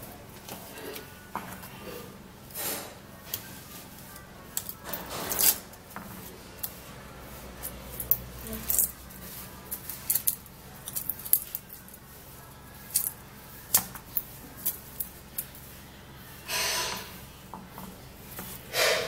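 Garlic cloves being peeled by hand, a series of soft papery crackles, rubs and small snaps close to the mic, irregular and quiet, with no talking.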